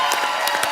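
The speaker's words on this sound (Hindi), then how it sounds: "जोरदार तालियों के बीच बुलाते हैं" Studio audience on a comedy talk show clapping in a brief, dense burst of applause, loud and close with crowd noise mixed in.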